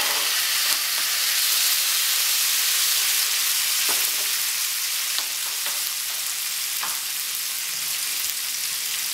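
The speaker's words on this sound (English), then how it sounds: "we're gonna go ahead and let this saute and begin to reduce before we add that" Tomatoes sauté in a hot pan with a loud, even hissing sizzle throughout, broken by a few light taps of a utensil.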